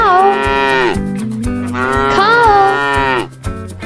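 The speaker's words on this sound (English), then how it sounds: "Cow," A cow lets out two long, loud, close moos, each a deep drawn-out bellow that rises and then falls away, with a brief pause between them.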